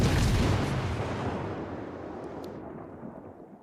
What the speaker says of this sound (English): So trying to dodge 2 battleships firing at me at the same time is rather difficult.